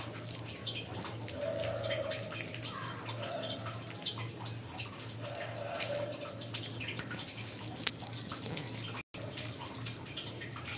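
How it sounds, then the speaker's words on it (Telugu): Waste water from filtering drains away in a continuous gushing flow, like a tap running into a basin, steady under a noisy background with faint voices. "ఫిల్టర్ చేసిన తర్వాత వేస్ట్ వాటర్ పోతుంది అక్కడ"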